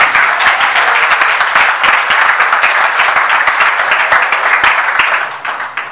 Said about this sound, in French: je souhaite pour cette bénédiction que l'on applaudisse très fort pour les familles respectives